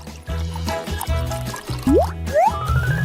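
Cooking oil glugs from a freshly opened bottle into a pan in a series of loud, close gurgles and plops, with rising pitch sweeps near the end as the stream tapers off.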